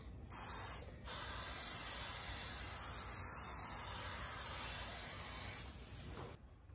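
Cooking spray hisses steadily onto a baking pan in a long, close burst lasting several seconds, preceded by a brief short spritz, with no talking.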